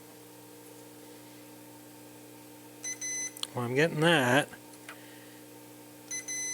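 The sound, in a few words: multimeter continuity test beep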